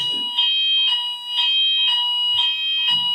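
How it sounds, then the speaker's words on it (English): A shrill electronic office fire alarm beeps in a steady repeating pattern, loud and continuous, with faint muffled movement in the background. "That's a fire alarm in the office."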